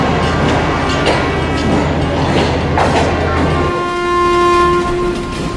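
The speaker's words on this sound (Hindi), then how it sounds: "हमारी ट्रेन आ गई है।" A passenger train pulling into a station on a Gujrat to Multan journey in Pakistan, with a loud, close rumble of rolling carriages and long, sustained horn tones sounding over it.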